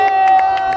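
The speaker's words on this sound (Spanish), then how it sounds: "Un aplauso fuerte para esta batalla." Crowd cheering and shouting after a Spanish-language freestyle rap battle semifinal, a loud, dense roar with voices rising and falling briefly close by.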